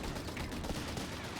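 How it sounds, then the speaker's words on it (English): Machine gun firing in Company of Heroes 3, a continuous dense rattle of rapid shots filling the whole short stretch, loud and steady with no voices over it. "Machine gun there, back in action."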